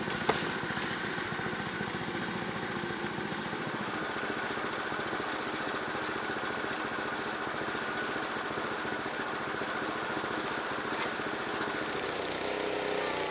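Frontier sawmill cutting a log into an 8 by 8 cant, with a steady, loud engine drone and blade noise running unbroken from start to end, nothing but machine sound throughout.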